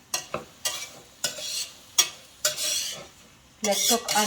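Raspberries cooking over medium heat in a pan are stirred in repeated scraping strokes over a soft sizzle, close and fairly quiet, with nobody speaking.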